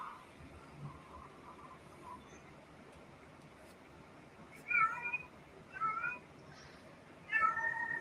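A female cat in heat gives three loud, drawn-out calling meows spaced a second or two apart, close by and standing out over a quiet room.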